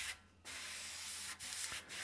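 An airbrush sprays opaque white paint along contours on an oil drum lid, a close, steady hiss broken by a few short pauses.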